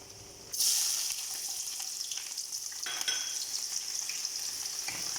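Sliced onions hit hot oil seasoned with salt for jollof rice, a sudden loud sizzle that settles into a steady, bright frying hiss with a few light stirring scrapes, close and alone.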